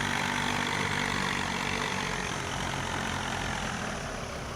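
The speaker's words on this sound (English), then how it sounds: "which is a cracking little tractor" A steady, loud tractor engine drone in Farming Simulator 19, a Lizard 445, with a low rumbling idle and broad noisy hum, continuous throughout without pauses.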